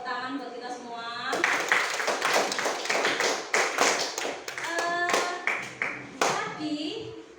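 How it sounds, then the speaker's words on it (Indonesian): A class of fourth-grade students applauds together after their presentations, a burst of close, lively clapping mixed with a teacher's voice and children's chatter. "Kita beri tepuk tangan buat kita semua."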